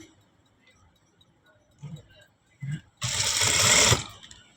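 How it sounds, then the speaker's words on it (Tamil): A sewing machine stitches along the edge of a blouse fabric piece, running in one steady close burst of about a second after a few soft handling knocks. "இப்போது இந்த எட்ஜில் போடணும் தையல்."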